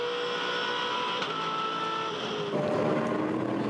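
Onboard a 2011 V8 Supercar driven by Paul Dumbrell for Team Vodafone at the Yas V8 400, a loud, continuous engine roar with a steady high whine that shifts in pitch and gets louder near the end.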